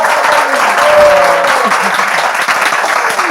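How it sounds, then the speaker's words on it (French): Loud applause from an audience for a participant in a Bible quiz, continuous clapping with voices chattering and calling out underneath. "Oh là, mais on l'applaudit quand même."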